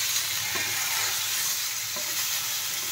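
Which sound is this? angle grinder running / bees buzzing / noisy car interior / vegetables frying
vegetables frying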